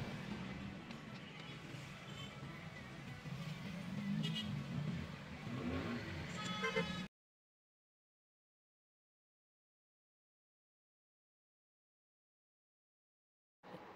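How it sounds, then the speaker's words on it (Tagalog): Busy town street traffic with cars passing and engines droning, a steady close wash of road noise for about seven seconds, then the sound cuts to silence. "Ipapakita ko muna sa inyo kung gaano ka-traffic ng lugar namin."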